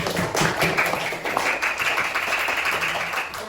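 Fifth-grade primary school class clapping hands together, a busy patter of many uneven claps blending into a steady wash of applause in a classroom.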